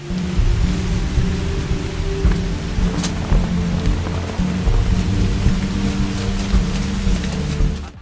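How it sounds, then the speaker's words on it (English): Heavy rain pours down steadily in a dense, loud hiss, with a low rumble underneath like distant thunder. "On the day of the burial, heavy rain pours down"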